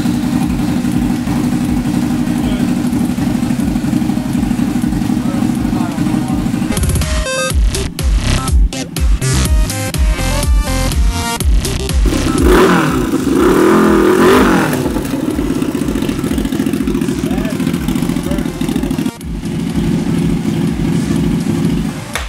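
A Suzuki TL1000R motorcycle engine revving hard on a dyno, loud and close, with a sustained high-rpm roar, sharp throttle blips and crackles midway, then a return to a steady heavy drone.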